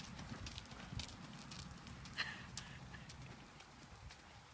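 A ridden horse's hooves clip-clop faintly at a trot through a riding lesson, soft, steady irregular thuds with low background noise and no talk.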